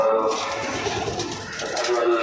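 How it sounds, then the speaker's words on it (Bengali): Many pigeons at a pigeon market in Khilgaon Sipahibag, Dhaka, coo continuously. The sound is a dense, loud, close chorus of throaty calls. "প্রচুর কবুতর, প্রচুর।"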